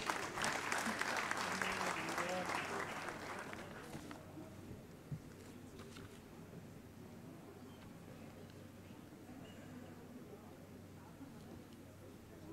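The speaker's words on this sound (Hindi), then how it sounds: "आप सभी की जोरदार तालियों के साथ" Clapping from the audience at a Sikkim–Uttar Pradesh memorandum ceremony, dense and loud at first, then thinning and fading to a low murmur of the hall after a few seconds.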